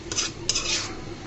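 Tender washed taro leaves are stirred in hot water in a pot, with a spoon scraping and clinking against the metal in two quick close strokes and no voices.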